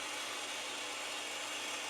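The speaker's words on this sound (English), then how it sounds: "Now I have a much larger drill bit fitted, and this is one that goes into the Morse taper of the quill on the tailstock." A large drill bit, held in the Morse taper of a lathe tailstock quill, bores into brass for a Simplex steam locomotive part with a steady, even hiss of cutting noise and no voices.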